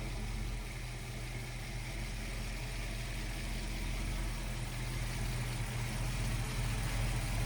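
A 1969 Ford Mustang Fastback with an aluminum intake, Edelbrock carburetor and headers idles close by in a steady, throaty rumble. The level holds even throughout, with no revving and no voices.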